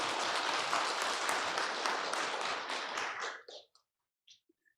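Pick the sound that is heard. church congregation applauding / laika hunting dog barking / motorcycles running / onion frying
church congregation applauding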